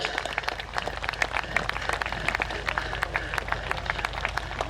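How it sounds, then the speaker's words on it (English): Applause from a large outdoor crowd at an air and car show, a steady patter of clapping with a low rumble of background noise underneath. "A very well-deserved round of applause for Mark Jeffries there."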